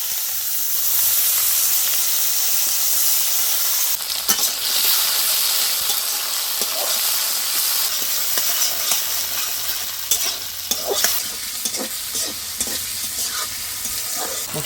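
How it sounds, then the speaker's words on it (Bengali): Chopped onion and tomato sizzling in a frying pan for a rohu fish and bottle gourd curry in a rural kitchen, a steady loud hiss with occasional stirring scrapes and clinks. "পেঁয়াজ কুচি টমেটো দিয়ে দেবো।"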